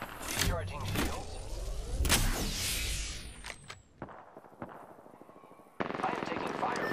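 Gunfire and explosive blasts from an Apex Legends match on PS4 Pro, a dense volley of shots and booms in the first few seconds, then scattered sharper reports and a steady mechanical rush, with game character voice lines over them.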